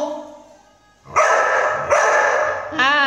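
A pet bulldog named Milky barks in two loud, close bursts, then lets out a whining yelp, in a quiet indoor setting.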